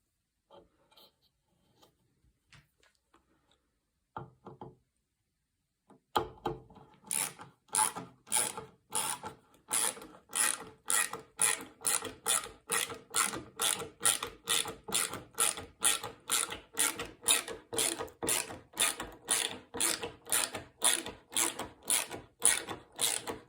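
Screws driven into a wooden nesting box with a ratcheting driver, opening with a few faint clicks and then settling into a long, loud, rapid train of sharp ratchet clicks at close range, with no voices.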